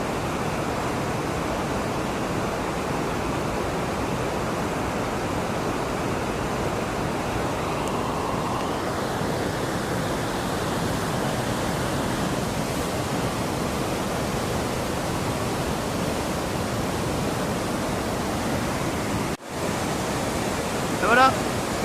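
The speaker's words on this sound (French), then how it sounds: "Et voilà, rivière d'Andorre," River flowing through the town centre of Andorra, a constant loud rushing of water that holds steady throughout, with no speech.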